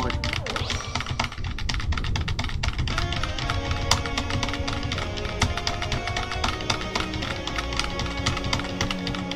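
Fast, continuous computer keyboard key presses during Deltarune gameplay, close and busy, mixed with game music and sound effects and occasional talking.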